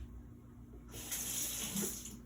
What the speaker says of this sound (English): I'm going to clean this brush first.